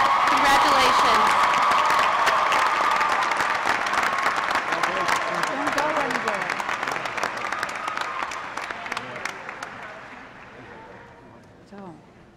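Dense applause from a large commencement crowd honoring College of Arts and Science graduates, loud and sustained at first, then gradually thinning and fading out toward the end.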